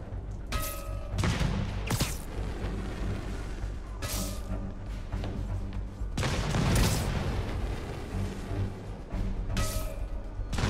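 Gunfire and explosions from the Spider-Man Remastered video game, with repeated heavy booms and crashes over a rumbling game soundscape. The blasts come in bursts several seconds apart.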